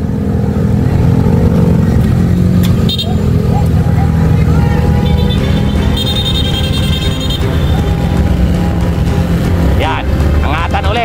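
Motorcycles riding close behind cyclists during a road bicycle race: a loud, continuous engine roar with shifting revs and traffic-like rumble throughout, with voices heard over it.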